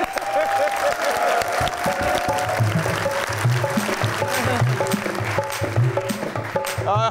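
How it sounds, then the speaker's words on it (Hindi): A studio audience claps for a comedian on a comedy show, a brisk scattered applause mixed with chatter, tonal music-like tones and a busy room. "भाईजान के लिए तालियां होनी चाहिए"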